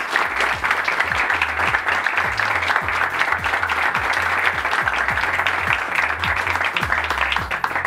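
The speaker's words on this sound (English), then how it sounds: "I want a big applause for everyone." Sustained applause from an audience at a pitch competition, dense and loud clapping that continues steadily throughout.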